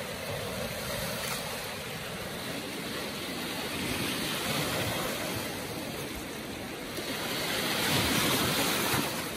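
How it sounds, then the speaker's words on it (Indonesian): Large tidal bore waves surge up a river and rebound off steel sheet piling along the bank, a continuous loud roaring wash of surf with rising swells and no voices. "Itu sangat besar kawan-kawan. Ombaknya, pantulan dari turap."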